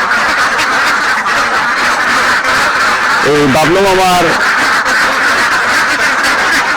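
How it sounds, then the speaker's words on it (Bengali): A black duck on a pond farm gives a short burst of quacks partway through, heard beneath someone speaking loudly over steady background noise. "এই ব্ল্যাক হাঁসের খামারটা কিন্তু আপনাদেরকে আজ আমি ঘুরে দেখাবো"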